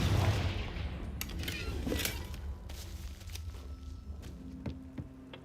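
A Confringo fire spell blasts in Hogwarts Legacy, a loud burst up front followed by crackling impacts and scattered booms that fade into softer game ambience and footsteps.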